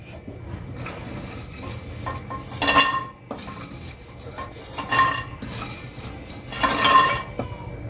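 Fried masala lentil dumplings (bori) are lifted out of a wok of hot oil with a metal spoon, producing close metallic scrapes and three louder clinking bursts against the pan over a soft background hiss.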